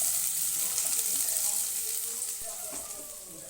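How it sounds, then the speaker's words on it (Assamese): Onions frying with a pinch of five-spice in a pan, stirred until golden brown, giving a steady close hiss and crackle throughout that thins slightly near the end. "পিঁয়াজখিনি ফ্ৰাই হৈ আছে"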